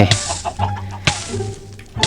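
Chickens on an automatic cooked-chicken farm in Minecraft Pocket Edition 1.18 give short, clipped clucks, several spaced across about two seconds, with faint background game sounds.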